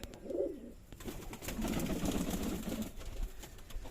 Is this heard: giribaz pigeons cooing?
yes